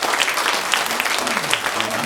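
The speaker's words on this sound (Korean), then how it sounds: "영광의 박수로 하나님께 드리겠습니다." A congregation applauds during a Sunday church service, with a short, steady burst of many hands clapping together in a large room.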